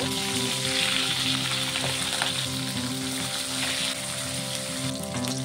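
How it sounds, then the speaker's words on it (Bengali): Khoira fish rubbed with salt and turmeric frying in hot oil, a dense continuous sizzle close up, steady and fairly loud throughout without any voices. "তেলটি গরম হয়ে গেছে, আমি আগে থেকে মাছে নুন হলুদ মাখিয়ে রেখেছিলাম, এখন ভেজে নেব।"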